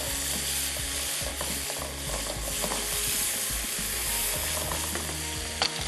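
Chicken fries in hot oil, a steady close sizzle with repeated scraping and clinking from stirring and utensils, no voices over it.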